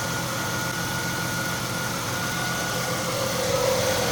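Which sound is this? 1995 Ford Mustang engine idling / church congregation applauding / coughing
1995 Ford Mustang engine idling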